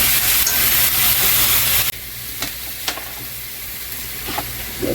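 Butter sizzles loudly as it melts in a pot just used for boiling potatoes for mashed potatoes. The hiss drops abruptly partway through, then carries on more quietly with a few faint clicks.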